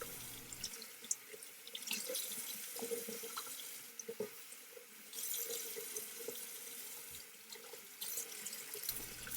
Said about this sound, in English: you'll rinse the equipment with hot water and place on a paper towel to air dry